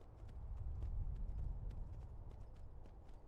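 Rhythmic clip-clop of a horse's hooves as a mare is ridden in Skyrim, the steady trotting beats loud and close over a low rumbling bed, with no talking.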